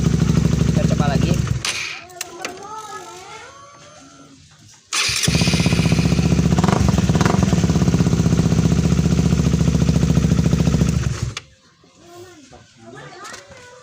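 A Honda CB150R motorcycle with a starter fault cranks and its engine catches, then runs loud and steady for several seconds before cutting off, with brief mechanical clatter and voices around it.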